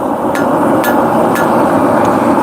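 Gentle hammer taps on a hot steel warhammer being forged, three or four light, evenly spaced metallic strikes, close and clear over a steady background hum.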